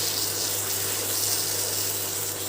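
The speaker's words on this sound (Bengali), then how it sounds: "আমি আবারও অল্প করে জল অ্যাড করব" A steady stream of water being poured into a pan of raw banana kofta curry, a continuous splashing gush heard up close with no talking.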